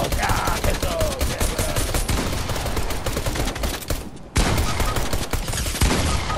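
Rapid pistol gunfire rings out in Fortnite, a dense, loud stream of shots that continues almost without pause, breaking off briefly and then resuming.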